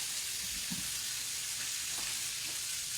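Food sizzles and fries quietly in a pan while New Year's soup is being made, a soft steady hiss with a couple of faint stirring scrapes and no voices.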